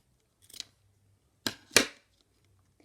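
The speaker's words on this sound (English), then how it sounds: "cut off that elastic." Scissors cutting elastic for a handmade mini notebook, a faint snip followed by two sharp close snips, then quiet.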